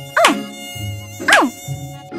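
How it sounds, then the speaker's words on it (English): A mosquito-like buzzing whine comes in two short, loud, swooping bursts, each rising and falling in pitch, separated by low background tones, with no talking. "what is that? A mosquito?"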